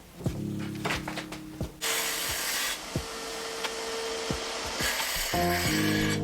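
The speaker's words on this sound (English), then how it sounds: "This bandsaw is a time saver." A bandsaw cuts through wood for a DIY wooden arch, its blade ripping loudly and close for a few seconds, broken by knocks and the motor's tonal whine as the cut starts and ends.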